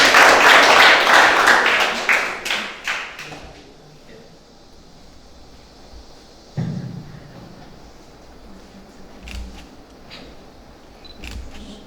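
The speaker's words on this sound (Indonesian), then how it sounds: "Tepuk tangan." Clapping at a Catholic mass rings out for a few seconds and fades, followed by quieter room sounds and a few scattered knocks and thuds.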